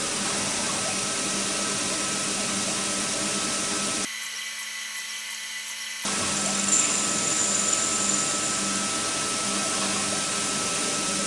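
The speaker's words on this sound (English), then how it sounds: "So we turn on the spindle and press the repeat button." Lathe spindle running steadily while facing stock on a CNC lathe with chucks, a loud continuous whine with broadband machine noise, briefly cut out mid-clip before resuming, with no talking.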